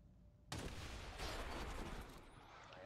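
Gunfire erupts in the video game XCOM, a sudden loud burst of rapid shots that cuts in after a brief quiet and rumbles on for a couple of seconds before easing slightly.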